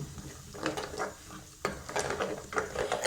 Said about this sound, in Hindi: फिर इसको हम अच्छी तरह से मिक्स कर लेंगे